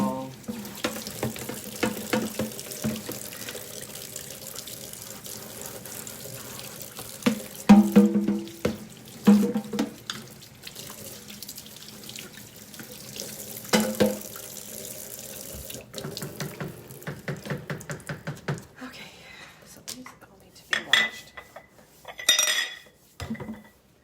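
Dishes washed under a running kitchen sink tap, water flowing steadily while cutlery and pots clatter and clink in irregular bursts, close and alone.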